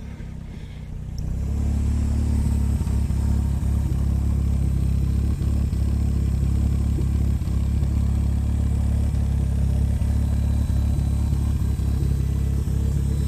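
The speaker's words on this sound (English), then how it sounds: "have a listen to the exhaust" A 1987 Ford Sierra Cosworth RS500's exhaust rumbles loud and steady at idle after starting, a deep continuous throb with a slight rattling texture.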